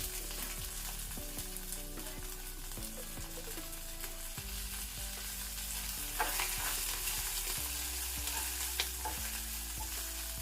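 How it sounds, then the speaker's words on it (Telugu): Curry leaves crackle in hot oil for coconut chutney, a faint continuous sizzle with soft stirring scrapes close by. "ఈ వేడికే మనకు ఈ కరివేపాకు వేగుతుంది."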